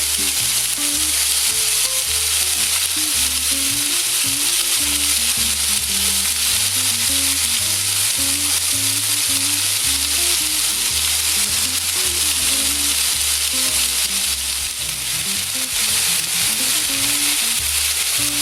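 A second batch of beef sautés in a hot pan with onion and spices, giving a loud, steady, close sizzle with rhythmic stirring scrapes that continue throughout.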